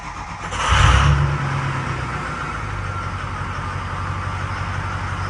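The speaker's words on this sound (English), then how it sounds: "We got the truck running." A farm truck's diesel engine catches after repeated cranking and revs up loudly, then settles into a steady, rumbling idle close by, with no talking.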